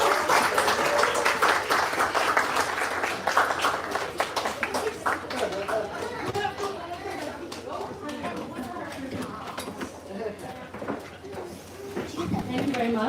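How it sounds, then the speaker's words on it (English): A large audience applauds for Dr. Akbar at a stage event, sustained clapping loud at first then thinning out over about thirteen seconds, with voices chattering underneath. "please everyone stand up, a nice round of applause for Dr."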